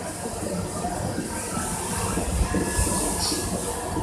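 A petrol-fuelled motorcycle engine runs steadily with a continuous, even rumble and hiss that holds at a constant level throughout, with no speech over it.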